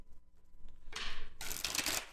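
Tarot cards being riffled and shuffled up close, two quick papery bursts of shuffling, the second longer and louder, against a quiet room.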